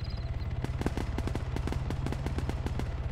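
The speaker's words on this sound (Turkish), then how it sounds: "Havaya sıktım ben uzaklaşsın diye." Rapid automatic gunfire in the Arma 3 game, shots fired into the air in a fast, steady burst of evenly spaced loud cracks, close and continuous for several seconds.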